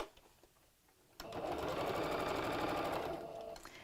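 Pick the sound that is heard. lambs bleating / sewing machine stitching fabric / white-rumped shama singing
sewing machine stitching fabric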